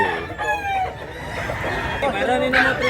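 Several capon roosters, castrated chickens offered for sale in Mantalungon, Cebu, crow and cluck in overlapping calls at close range amid ongoing bustle, with some voices faintly under the birds.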